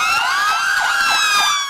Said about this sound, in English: The blaring of sirens signals the flag-off of Operation Awkward.